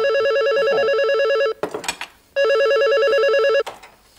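A telephone rings loudly in two long warbling bursts, separated by a short pause filled with brief handling clatter, close and with no voices.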